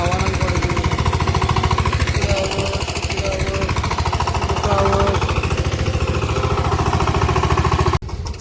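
A tractor engine runs close by with a loud, rapid, steady thumping chug, little change across the run, then a sudden cut-off near the end.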